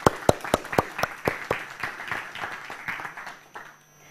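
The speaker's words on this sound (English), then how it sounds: "that's worth a big round of applause" Applause from a conference audience after a talk, a burst of sharp individual claps at first that thins into a softer, scattered patter and fades out over about four seconds.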